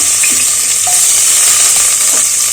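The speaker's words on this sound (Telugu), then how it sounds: "ఆయిల్ వేడైంది ఆల్రెడీ ఆవాలు వేసుకుందాము మిచ్చిటిపట్లు ఆడుతూ ఉంటాయి జీలకర్ర వేసుకుందాము" Mustard seeds and cumin sizzling in hot oil, a loud steady frying hiss with faint pops from the seeds, close up and without speech.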